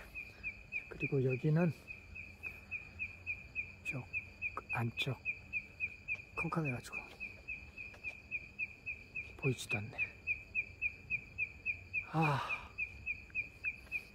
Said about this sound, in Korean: 열대지방에서 듣는 개구리 소리